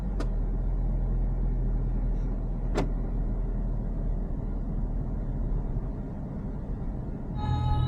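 Road traffic as heard from inside a car, a steady low rumble of engines and tyres running throughout, with a couple of brief sharp clicks and a faint whirring motor near the end.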